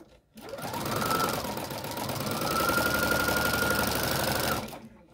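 A vintage sewing machine runs steadily for about four seconds, stitching down quilt binding with a lock stitch, its motor whirring and needle chattering close and loud, spinning up at the start and stopping abruptly.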